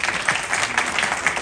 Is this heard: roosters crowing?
no